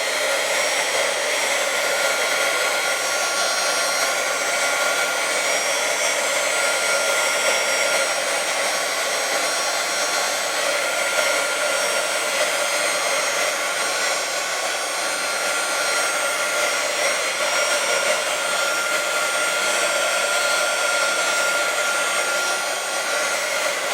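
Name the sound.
heat gun drying paint on scrap wood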